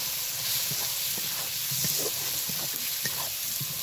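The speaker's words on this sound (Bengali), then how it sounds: "এবার ভালো করে মশলাটা আর একবার কষিয়ে নেব" Masala with chopped tomato and slit green chilli frying in oil in a pan, a steady soft sizzle and hiss with faint scraping stirs, close and without talk.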